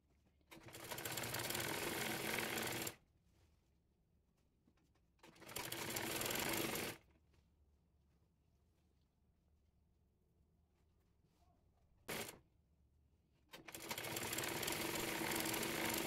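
A sewing machine stitches an apron's coat-style collar in three long, loud, steady runs and one quick burst, each separated by near silence.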